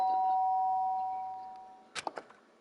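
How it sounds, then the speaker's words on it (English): A doorbell chime from the Danganronpa video game rings near the end, a quick cluster of bright tones after a fading steady hum. "The sharp sound of the doorbell pierced my sleepy haze and pulled me back to the real world."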